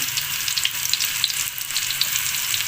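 Garlic dropped into very hot cooking oil for adobo, a dense, continuous close sizzle and crackle with no talk over it.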